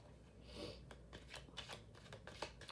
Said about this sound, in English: Do you like the sound of the card shuffling?